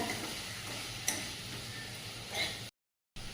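Vegetables being sautéed with salt in a pan, a steady sizzle with a couple of brief scraping stirs, then a sudden cut to silence near the end.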